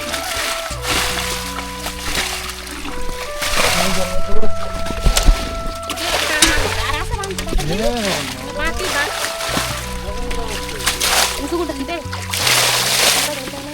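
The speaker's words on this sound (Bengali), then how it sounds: "কাঁকড়া ধরার কাজ হচ্ছে ধোয়া হচ্ছে জল দিয়ে দেখো" Water splashes as freshly caught crabs are washed at a crab farm in a village beside the Sundarbans tiger forest. The splashing sloshes on and off under people talking and a steady tonal background.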